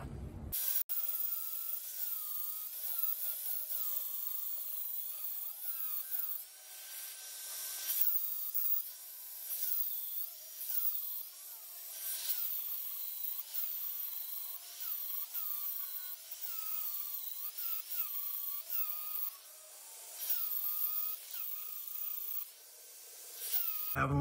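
Close, sustained high-pitched grinding as a power grinder resurfaces the face of a steel anvil, the whine wavering in pitch with repeated passes and short pauses.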